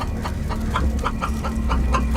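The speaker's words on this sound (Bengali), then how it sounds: "মুরগিটা কো কো করতে করতে ডানা মেরে" A chicken clucks repeatedly in short, rhythmic bursts while flapping its wings, close and fairly loud, over a steady low background hum.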